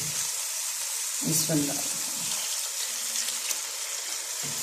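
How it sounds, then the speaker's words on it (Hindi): Hot water goes into sizzling dal mash in a pan, giving a steady frying hiss with bursts of bubbling and splashing, while someone talks over it at close range. "इसमें मैं गर्म पानी डालूंगी"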